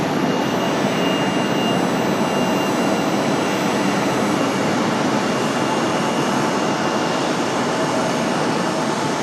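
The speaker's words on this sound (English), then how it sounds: "Got an American 737 on the move here" An American Airlines Boeing 737 taxis at Raleigh-Durham International airport, a loud, steady broadband jet roar close by that holds constant throughout with no speech.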